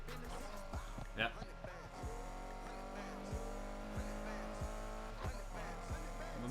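A car engine in the Need for Speed Heat racing game, with a BMW-like tone, revving and shifting over a steady low drone with brief squeal-like transients, while a person talks over it.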